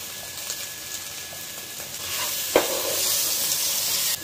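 Cauliflower and peas sautéing in a pan for mutton keema masala, with a soft sizzle and stirring scrapes that build louder partway through, plus a sharp clink near the middle.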